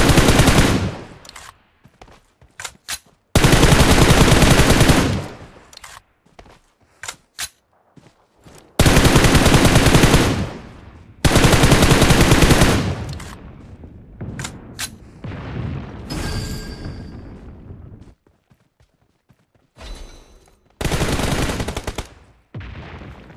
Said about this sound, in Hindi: सामने फायरिंग हो रही होती है गाइज, यहाँ पे OP फाइट होने वाली है गाइज।